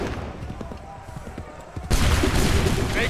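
Soldiers fire a musket volley in a Assassin's Creed III battle, the massed gunfire bursting loud and dense partway through and rumbling on, preceded by quieter shouting and commotion.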